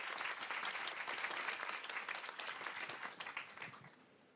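An audience claps steadily to welcome a young carpenter onto the stage at a panel event, dense, sustained applause that gradually fades near the end.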